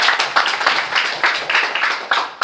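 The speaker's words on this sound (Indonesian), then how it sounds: "Tepuk tangan dong yang di sini" Steady applause from a university student audience at a Muhammadiyah gathering, a dense wash of many hands clapping together at close range with no talk over it.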